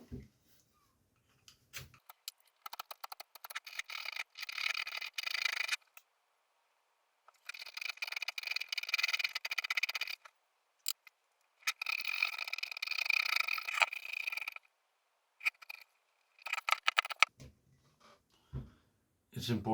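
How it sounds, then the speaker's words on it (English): Paint being scraped off the wooden handle of an Adler Rheinland hatchet, heard as several close bursts of rasping scrapes separated by short silent pauses, with no talking. "On the bottom of the axe there's a little bit thicker layer of paint, so we'll have to scrape a little bit longer."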